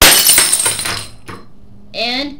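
Glass shatters as a hammer strikes it: a loud, bright crash at the start breaks into scattered fragments and fades. About a second later a brief clink follows, then a ringing, chime-like tone near the end.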